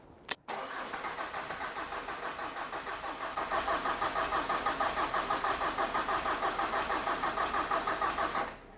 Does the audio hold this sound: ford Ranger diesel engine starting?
yes